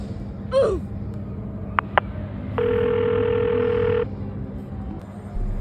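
A short electronic tone sounds twice, then a steady ringback tone holds for over a second, like a phone call connecting, over low background hum.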